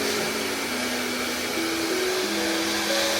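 A hair dryer blows on a badly wrinkled outfit, a loud steady whooshing roar up close, its pitch shifting slightly a few times as the airflow changes.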